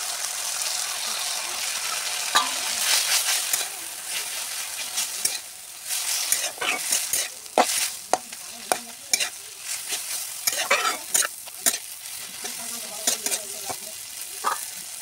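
Fried eggs are stirred into a sizzling pan of taro and meat curry, giving a steady close hiss punctuated by sharp, irregular spatula scrapes and knocks that grow more frequent toward the end.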